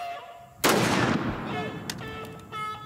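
A pistol is fired from the hip outdoors in a swamp setting. One loud, close gunshot bursts out and rings off in a long decaying tail, followed by faint shuffling noise.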